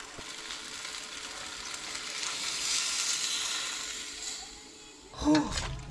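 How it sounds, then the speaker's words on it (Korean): Potatoes and carrots stir-fry in a crowded pot with a continuous soft sizzle, then close clanks and a swirl of movement near the end. "감자랑 당근이 볶아질 동안 저는 양파 손질을 해주도록 하겠습니다"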